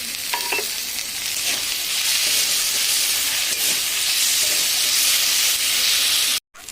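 Tomato goes into a frying paste of ground chilli spices, raising a steady, loud hiss and crackle of oil close by, with faint stirring scrapes underneath, before the sizzle cuts off abruptly near the end.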